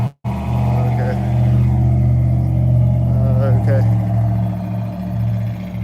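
A black truck drives past on the street, its steady engine rumble loud and close throughout, with a brief dip at the start and a slight swell as it passes; voices talk over it.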